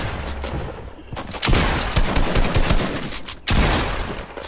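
An automated turret in Fortnite fires a sustained rapid burst of gunfire, pauses briefly, then opens up again with another loud volley.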